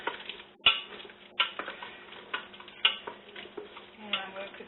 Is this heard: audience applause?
no